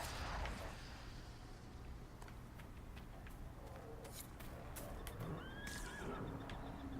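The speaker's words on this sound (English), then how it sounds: "Did I just attack the horse?" A horse whinnies and neighs in Dragon Age: Inquisition, a shrill rising call heard near the end over faint hoof clatter and quiet game ambience.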